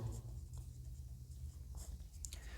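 Writing during a Class 10 maths lesson on areas related to circles: a faint, continuous scratching of strokes over a low background hum, with no talking.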